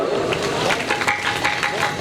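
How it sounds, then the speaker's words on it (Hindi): Audience at a religious recital breaking into applause, a dense spatter of claps spread across the space, steady for a couple of seconds with some voices underneath. "एक बार जोरदार तालियां"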